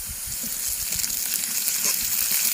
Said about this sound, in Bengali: এবার আদা রসুনের পেস্ট দিয়ে দিচ্ছি